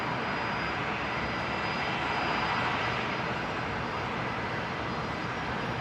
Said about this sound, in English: Next arrival, Jetstar 482 coming in from Newcastle